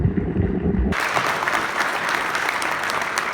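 Audience applause at a business presentation for a fast-growing energy company, a dense, steady wash of clapping that starts sharply after a brief low rumble and carries on loud and close.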